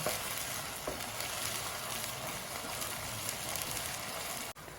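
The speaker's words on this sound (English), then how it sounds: "Stir the tomato mixtures until it is well fried." A fresh tomato and pepper mixture fries and crackles steadily in a pan for Jollof spaghetti, a dense continuous sizzle with light stirring scrapes, cut off briefly near the end.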